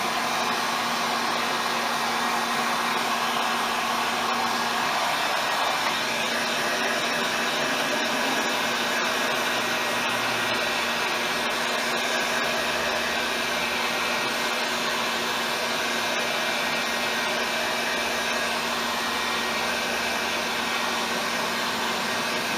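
A heat gun on its high setting blasts hot air over a surface, producing a loud, continuous, close-range roaring whoosh that holds steady throughout with no talk.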